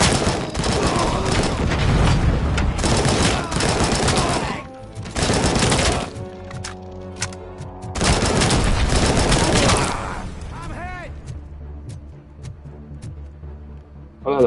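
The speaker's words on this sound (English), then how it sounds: "I thought that was a grenade for a second" Rapid bursts of gunfire and a heavy blast in RoboCop Rogue City, loud dense volleys with brief gaps, then sharp isolated shots trailing off into a quieter tail.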